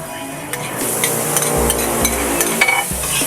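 Hotdog frying in a pan with a steady, bright sizzle, interrupted by several low knocks and thumps as the pan is stirred or tapped, close and fairly loud throughout.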